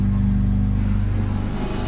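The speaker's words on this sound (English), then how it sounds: "Moments later, they jumped in a car and followed us again." A car pulls away carrying three men, giving off a brief, steady low engine rumble close by with no other sounds.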